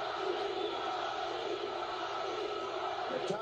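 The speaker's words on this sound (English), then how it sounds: "Crowd tries to lift Tapia" A boxing crowd at a WBO bantamweight title fight roars steadily for Tapia, a dense, distant wash of cheering and shouting with no break.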